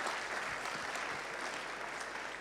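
A crowd at a gathering breaks into applause, a steady, even wash of many hands clapping at moderate distance that holds throughout, with no distinct voices.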